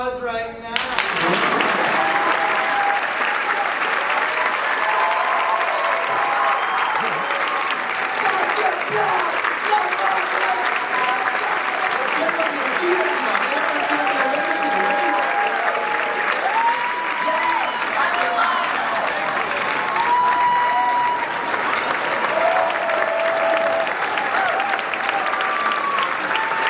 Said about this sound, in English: Because you deserve applause right now